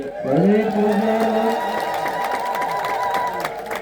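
A congregation ululates in celebration at the eve service of the Ginbot 12 feast of Abune Tekle Haymanot at Debre Libanos monastery. Sustained, wavering high voices swell together and hold steadily for several seconds amid a crowd.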